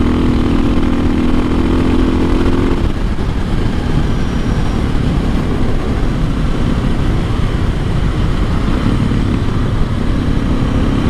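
A modified motorcycle pulling hard in fifth gear, a loud, continuous engine roar that holds steady throughout, with wind rush and no talking.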